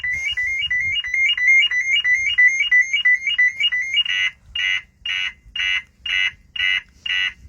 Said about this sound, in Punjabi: ਅਲਾਰਮ ਵੱਜ ਕੇ ਹਟੂਗਾ ਹੁਣ